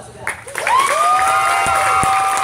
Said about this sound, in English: we should give them a round of applause for